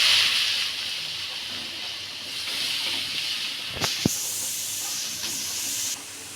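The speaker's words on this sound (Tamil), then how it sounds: "இது நெய் கூட கேரட் போட்டு நல்லா ஃப்ரை பண்ணிக்கோங்க" Carrots frying in ghee give a continuous hissing sizzle, loud at first and then steadier, with a couple of sharp clinks or scrapes midway. No voices.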